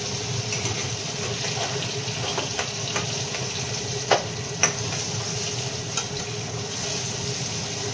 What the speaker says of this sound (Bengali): গাজর বরবটি সবই খুব সুন্দর সুন্দর ভাজা হচ্ছে একদম